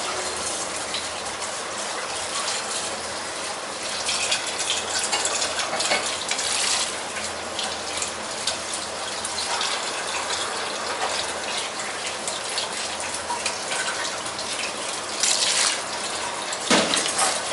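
Half a litre of water pours into a pot of desi chicken stew with a steady splashing gush, close and continuous, followed by stirring and a few louder splashes near the end, no talking.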